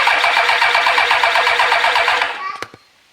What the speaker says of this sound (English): And when you hear this thing crank...